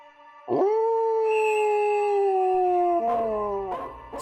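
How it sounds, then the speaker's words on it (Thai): Several dogs howl from the far end of a temple ground at night, long sustained wails that overlap and waver, fairly loud and steady, with more voices joining toward the end. "เสียงหอนของหมาหลายตัวก็ดังแว่วเข้ามาจากทางท้ายวัด"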